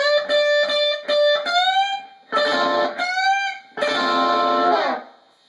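Electric guitar with effects, a quick pick rake across the strings followed by a string bend, played fast. Several short raked note bursts come first, then sustained bent notes ring loudly and close, with no talk.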